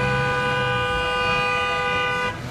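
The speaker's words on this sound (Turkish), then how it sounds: "konuşması araçların korna sesleriyle böyle kesildi" A steady, loud car horn from vehicles on the street blares continuously for a couple of seconds, interrupting a public speech, with traffic noise underneath, then cuts off.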